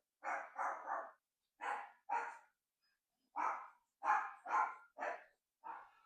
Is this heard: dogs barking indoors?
yes